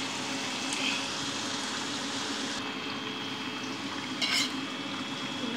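Half-cooked rice is stirred into vegetables in a pan, giving a soft, steady sizzle with occasional scraping and clinking of the utensil, quiet and close.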